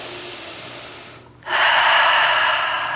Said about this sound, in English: Taking a breath here.